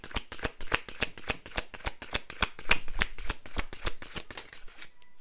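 Tarot cards shuffled by hand in a rapid, even run of crisp riffling flicks, close and steady, with no talking.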